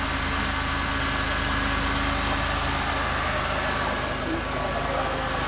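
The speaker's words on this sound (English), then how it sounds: "So this shit sounds good for a used motor." A used replacement engine swapped into a Pontiac Grand Prix GTP runs at a steady idle, a constant loud hum and rumble with no change in pitch throughout.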